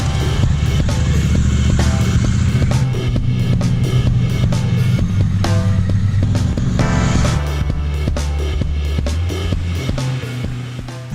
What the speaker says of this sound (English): I'll try and let the bike rumble a little bit more